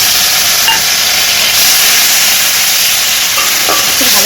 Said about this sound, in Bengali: দিয়ে দেবো আমি আদা, রসুন আর জিরে বাটাটা।